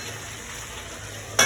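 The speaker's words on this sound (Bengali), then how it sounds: "একটু কষিয়ে নেব ঢাকা দিয়ে।" Vegetable rezala masala made without onion or garlic, cooking with whipped yogurt in a pan, gives a steady soft sizzling hiss with a brief louder scrape or clatter at the very end.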